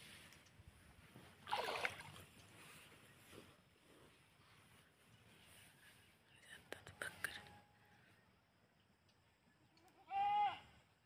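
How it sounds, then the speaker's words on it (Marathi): A goat left behind by its herd bleats loudly once near the end, after a stretch of quiet rustling and soft whispery noise with a few faint clatters, by a river. "बाकीच्या बकऱ्या गेल्या तिला सोडून पुढेच, मागून ओरडत जाते."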